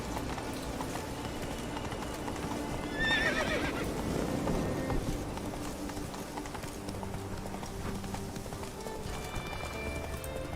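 Horse hooves clip-clopping at a run in The Witcher 3, a rapid soft rhythm under game ambience, with a brief whinny near the middle; fairly quiet throughout.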